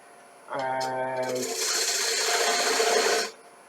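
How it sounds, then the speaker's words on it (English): A small ball gouge cuts into a wooden bowl spinning on a lathe, with a brief tonal whine that gives way to a sustained rough hissing scrape for about three seconds before stopping abruptly. "I start with the small ball gouge just to remove fast"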